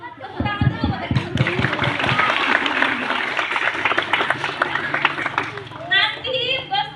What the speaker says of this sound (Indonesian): Tepuk tangan dulu buat yang